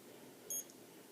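A Suunto Core wristwatch sounds its storm alarm: one short, high electronic beep, quiet and alone against faint room noise.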